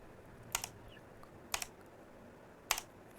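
Sparse keyboard clicks from a MechaKeys mechanical keyboard sound pack, three short isolated keystrokes spaced about a second apart over a faint hiss, fairly quiet and close, with no talking.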